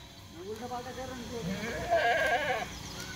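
Goats bleat in a few wavering calls, the loudest near the end, with low background noise and no speech.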